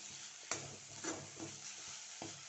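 Drumstick leaves with chili powder fry gently in a pan over a low flame, a soft steady sizzle broken by a few stirring scrapes, quiet and close with no talking.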